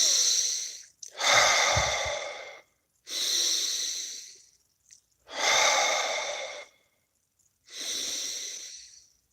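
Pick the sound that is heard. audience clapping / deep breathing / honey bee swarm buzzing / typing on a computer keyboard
deep breathing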